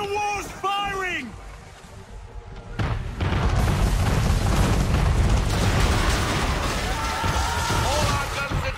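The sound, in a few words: cannon fire from an enemy man-of-war ship, video game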